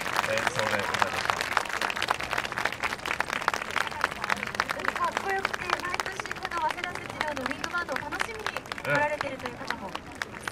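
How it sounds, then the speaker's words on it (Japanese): Outdoor crowd applause for the Waseda Setsuryo High School wind band at the Osaka Great Santa Run 2019, steady crisp clapping from many people while voices talk over it. "今一度皆さん大きな拍手をお送りください。"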